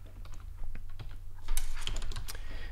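Someone types steadily on a computer keyboard, close up. The clicks grow denser and louder toward the end, with no talking.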